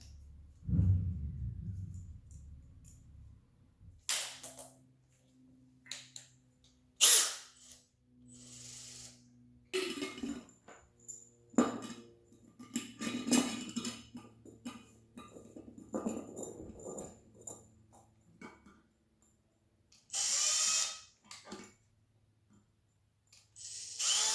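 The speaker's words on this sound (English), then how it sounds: "now I'm going to drill, I guess, 3 little holes" Intermittent bursts of a small power drill whirring, several separate drilling runs with clicks and handling noises between them, close by.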